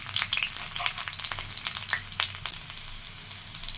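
Garlic sizzles in hot oil in a kadai, a steady bright crackle with scattered sharp pops and stirring scrapes, close and continuous with no talk.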